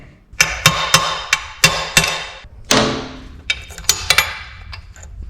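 A hammer strikes a metal punch driving out a roll pin on a chipper shredder in sharp, ringing blows, about a dozen hits in uneven rhythm, close and loud with brief pauses between.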